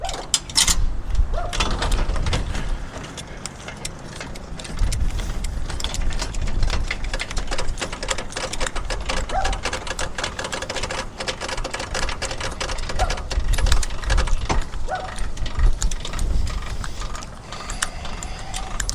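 Hand crank being turned to unhook a trailer from a quad outdoors, producing continuous rattling, clicking mechanical noise with rumbling background for the whole stretch.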